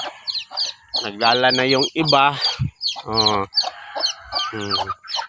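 Chickens cluck and squawk close by in quick bursts at a bahay kubo hut while a person speaks over them.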